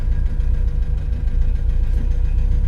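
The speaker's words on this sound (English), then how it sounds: "this car does not have a good idle" A modified 1966 Alfa Romeo Giulia GT engine idles roughly, a low, uneven throbbing rumble with slight lumpy pulses, steady and close for nearly three seconds, no talking.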